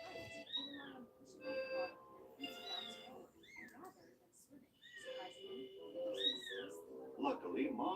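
A noisy kitten meowing repeatedly in short, rising cries, with a calmer adult Siamese cat nearby, heard faintly alongside a narrating voice in a quiet indoor setting.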